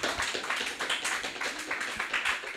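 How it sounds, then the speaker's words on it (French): Congregation in a French-speaking church service clapping together, a dense steady patter of many hands with faint rhythmic pulses, fairly quiet and continuous. "Applaudissons pour Jésus-Christ."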